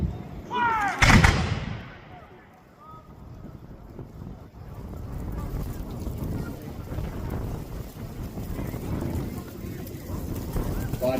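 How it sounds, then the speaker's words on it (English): A musket volley fires at a Revolutionary War battle reenactment near Greensboro, North Carolina. It is one loud, ragged blast early on, then gusty wind noise and muffled voices talking. "Another volley."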